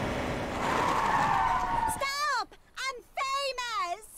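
Car tires skid and screech loudly in the video game Road 96 for about two seconds, followed by a person speaking.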